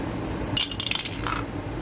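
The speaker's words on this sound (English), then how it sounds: "roll a dice, pay the price" A small die clatters and bounces in a tight series of sharp clicks, several rapid taps settling to a stop, close and clear against a quiet background.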